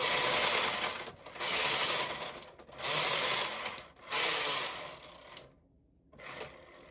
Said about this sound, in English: Go over with the lace carriage.